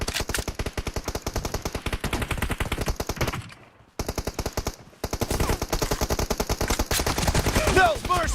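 Automatic gunfire in the mobile battle game PUBG Mobile, a dense rapid stream of shots hammering steadily, briefly pausing twice before resuming even louder.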